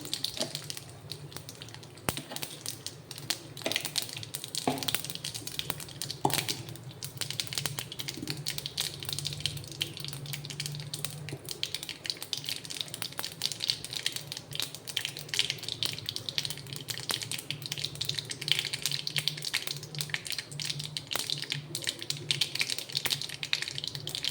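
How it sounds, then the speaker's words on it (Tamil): Mustard seeds and urad dal sizzle and pop in hot oil in a kadai, a dense, crackling patter of quick, close snaps that continues steadily throughout. "அடுத்து ஒரு கடாயில் எண்ணெய் ஊற்றிட்டு எண்ணெய் காஞ்ச அப்புறம் கடுகு உளுத்த பருப்பு போட்டுக்கலாம்."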